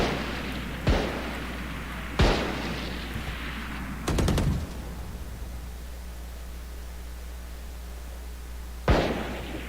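Several sharp, spaced bursts of video game gunfire and a grenade-like blast, each a sudden loud crack fading away, over a steady low hum.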